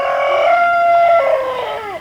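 A rooster crows once in a garden, a long, loud, close call that holds steady and then trails downward at the end, with no other sounds around it.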